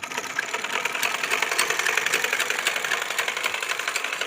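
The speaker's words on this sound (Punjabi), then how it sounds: "ਲਓ ਜੀ ਕਮਕਾ ਦਿੱਤੀ ਹੈ ਮਸ਼ੀਨ ਲਾਲੇ ਨੇ, ਹੈਂ ਜਿਵੇਂ ਮਰਜ਼ੀ ਹੈ ਚਲਾਉਣ ਨੂੰ" A repaired household stitching machine runs steadily and loudly on its own, a fast continuous mechanical whir with rapid rhythmic clatter throughout, no voices over it.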